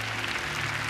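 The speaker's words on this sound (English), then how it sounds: "Clap them hands and tell them thank you." A church audience claps together in a short, dense burst of applause lasting about a second.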